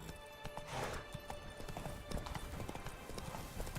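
Horse galloping in The Witcher 3, a steady clip-clop of hooves running close and loud over game ambience and music, with no talk.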